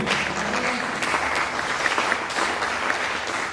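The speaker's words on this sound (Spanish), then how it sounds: "Dale un aplauso fuerte al Señor" A church congregation claps loudly and steadily together, a dense continuous applause filling the room from start to finish.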